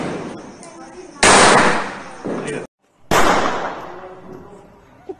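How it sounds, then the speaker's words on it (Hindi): A revolver is fired into the air in a village, two sharp, loud blasts a couple of seconds apart, each trailing off into a long decay, with voices faintly in the background. "रिवाल्वर से गोली चला रही है"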